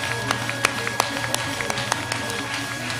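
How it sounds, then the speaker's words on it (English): A church congregation at a Sunday morning holy convocation praise service, clapping with scattered sharp claps over a loud crowd, with voices and a sustained musical tone. "Accompany your clapping with a shout unto the Lord."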